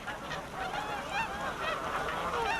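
Geese and other wildfowl honk and call together at the decoy on Slimbridge's Swan Lake, a dense, continuous chorus of overlapping cries, fairly close and steady throughout.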